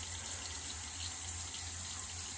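Warm water runs from a tap into a sink, a steady continuous rush that stays even and fairly faint, with no talking over it.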